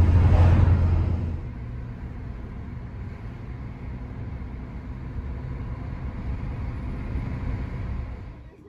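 Steady low rumble of a car driving, heard from inside the cabin, with a louder thump at the start before settling into continuous road and engine noise throughout.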